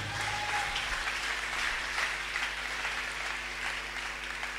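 A church congregation at a Sunday service applauds Jesus Christ, a steady wash of many hands clapping at moderate distance with a low hum underneath.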